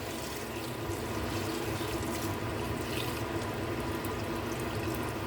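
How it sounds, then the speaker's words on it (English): Water poured into a cooking pot while making egusi soup, a steady, soft rushing splash lasting several seconds, faint and even, with no speech. "Now I'm going to add my water."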